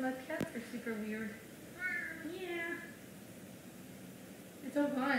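A Savannah cat at a big cat rescue meows repeatedly in a mid-range, fairly close series of rising and falling calls, with a brief sharp rustle near the start and quiet human voices in the background.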